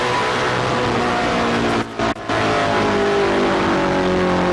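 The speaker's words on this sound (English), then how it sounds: "You'll listen to the throttle in Michael Rich's car. It's just so smooth." Michael Rich's Ford race car roars under throttle at Myrtle Beach Speedway during the 2006 USAR Pro Cup BiLo 250, heard from on board as a loud, steady engine drone with a brief double lift off the throttle midway.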